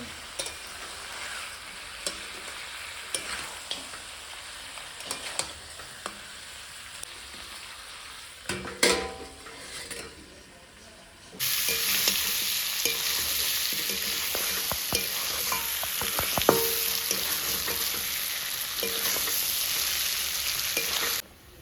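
Mutton curry is stirred in a pan on a low gas flame, with scraping strokes over a soft sizzle that swells into a loud, steady frying hiss partway through.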